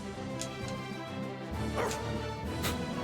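A dog in the video game Tales of Vesperia gives a few short yips and barks, with a whimpering edge, over a constant backdrop of game sound.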